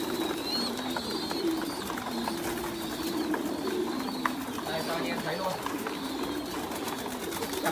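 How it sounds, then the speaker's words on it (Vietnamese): Pigeons at a farm loft with a nesting pair raising young, soft continuous cooing with scattered chirps throughout, close and fairly steady, with faint background noise and no talk over it. "Cặp chim bồ câu này đang nuôi con ở bên dưới mà đẻ hai quả trứng bên trên"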